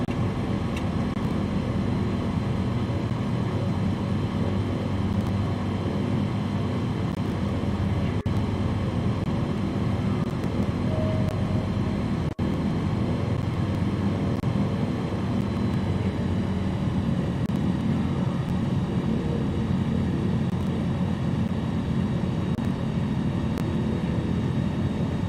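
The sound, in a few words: aircraft engine throttling in Flight Simulator 2020 video game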